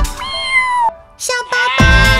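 In a children's cartoon song, a sung voice imitates a cat with a few clear, bright meows in quick succession, loud and close, with musical accompaniment.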